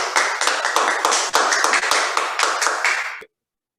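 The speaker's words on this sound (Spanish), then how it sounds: "un fuerte aplauso para el compañero" An audience claps together for a speaker, a dense burst of loud applause lasting about three seconds before cutting off abruptly.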